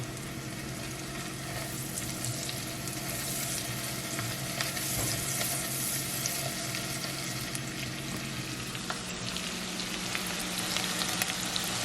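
Onions sauté in a pan for baked mac and cheese, producing a constant, moderate sizzle with light crackles and occasional faint stirring, steady from start to finish.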